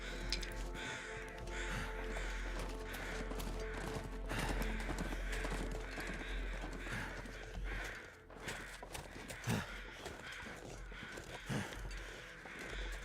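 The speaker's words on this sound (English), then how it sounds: "I hear crows over here" Crows caw intermittently amid wintry wilderness ambience in the survival game The Long Dark, with scattered footsteps and rustling over a constant low rumble.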